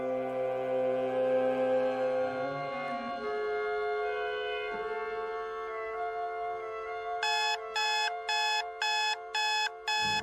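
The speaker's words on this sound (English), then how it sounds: "Oh, forgot to turn the blasted alarm off." An alarm clock rings in a radio drama scene, a long tonal drone under music-like tones, then a loud, rhythmic beeping pattern of about six evenly spaced bursts at the end, with no talk.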